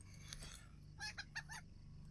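Chickens cluck in short bursts at a farm in the online game Lord of the Rings Online, heard faintly over a low steady background hum.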